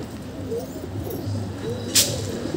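Soft, low coos of pigeons eating bread murmur over a busy outdoor background, with a brief sharp click near the end.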